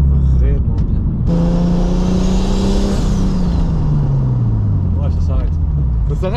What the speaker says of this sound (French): ça freine vraiment bien.